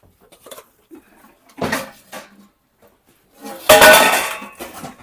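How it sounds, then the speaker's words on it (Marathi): Stored household utensils such as steel plates, bowls and a wide kneading pan are handled and set down, giving a few loud clattering metal clinks and knocks separated by quiet pauses, up close. "काय काय भांडी जी होती स्टोरेज मध्ये तीच काढून आणली आहे"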